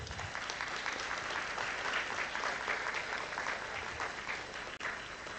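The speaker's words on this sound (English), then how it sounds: "Please welcome all of them with a big round of applause." Audience applause welcomes guests at an international expert lecture event, a dense, even wash of many hands clapping at a moderate distance, sustained without break throughout.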